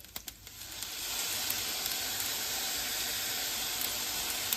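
Salted soy sauce poured into a hot pan bursts into a steady, bright sizzle that swells after a moment and holds at an even level, close and alone without talk.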